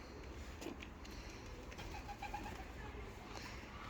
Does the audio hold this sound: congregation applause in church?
no